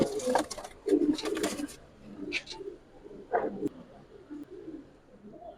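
Giribaz pigeons give a few soft, throaty coos with short gaps between them, close by and alone against a quiet background.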